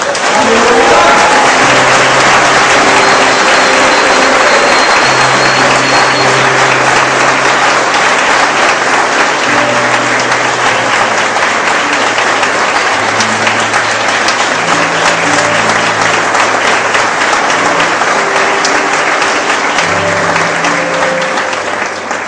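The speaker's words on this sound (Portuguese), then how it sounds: "Dê um aplauso ao Senhor Jesus" Sustained applause from a church congregation, dense and steady clapping filling the room for over twenty seconds, with faint musical tones underneath.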